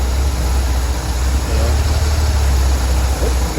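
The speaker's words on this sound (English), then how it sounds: "Okay, so I got her going again. And she's idling at," A Vauxhall Corsa with a suspected bad fuel pump idles steadily, its low, continuous engine hum close and loud throughout.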